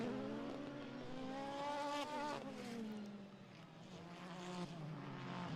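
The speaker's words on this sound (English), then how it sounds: "I do love listening to the onboard because I love listening to the transmissions" Onboard engine of a Nissan Z race car at Okayama in Super GT, a steady high-pitched drone rising and falling through gear changes with clear transmission whine, loud and close with no talk.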